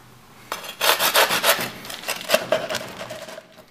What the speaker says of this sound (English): let's have a little listen to the crispiness before we cut.